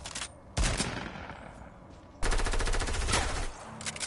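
Rapid SMG gunfire in a video game, two long sustained bursts of fast automatic shots separated by a brief pause, loud and close with faint game sounds in between.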